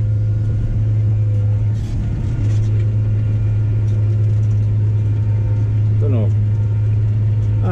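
A tractor drives across a field towing a seed drill, its engine a loud, steady low drone that holds throughout with little change, while a brief rattle or squeak surfaces near the end.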